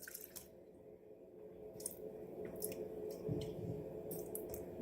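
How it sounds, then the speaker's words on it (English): Warm milk drains out of a pan during homemade Greek yogurt making, heard as soft, close wet squishes and drips with a few sharper splashes over a quiet background. "all this is the milk coming out of the pan, and it's still warm, obviously"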